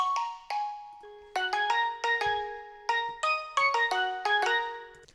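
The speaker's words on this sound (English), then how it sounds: "So I just made this like little lead line that sounds like this" A bright, plucky synth lead line in a happy, kawaii future bass style plays a bouncy melody of short, bell-like notes with quick decays, moderately quiet and heard alone without talk.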